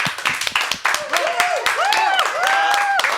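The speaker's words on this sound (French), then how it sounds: "Vous gardez ces applaudissements." An audience at a French cultural evening show claps vigorously, with sharp, busy hand claps mixed with voices and whoops rising over the applause throughout.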